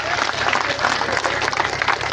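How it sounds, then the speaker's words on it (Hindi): A large crowd at an Urdu poetry recital claps loudly and continuously, a thick roar of hands filling the space with a faint murmur of voices mixed in. "अगर ताली बजा सकते हो एक बार 2000 ताली बजा कर मुझे बताएं"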